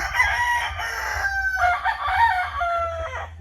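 A rooster crows loudly and close by, with overlapping calls from other fowl and a few clucks in the background.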